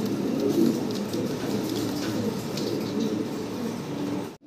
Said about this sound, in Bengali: চমৎকার একজোড়া পুতুলের মতো দেখতে কবুতর আপনারা দেখতে পারতেছেন